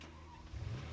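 Car engine from the video game Deadly Premonition, a steady mid-pitched hum that swells louder partway through as if revving, with no talk over it.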